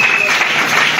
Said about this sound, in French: Et applaudissez pour la...